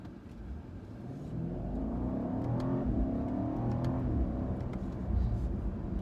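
A 2017 BMW 750i xDrive accelerating hard from a standstill toward 60 mph, heard from inside the cabin as a steady, building engine roar and whir that swells and holds for several seconds.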